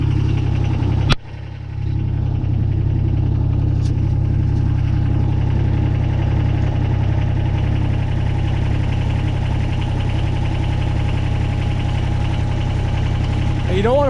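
Kubota BX22 compact tractor with a backhoe attached, its engine held at low idle in a steady, loud, close rumble that begins after a sharp knock, with a person talking over it.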